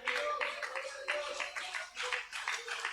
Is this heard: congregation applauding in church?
yes